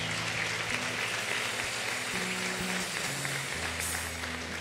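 A church congregation applauds during a worship service, the clapping fairly soft and steady under sustained low organ or keyboard chords that shift throughout the few seconds.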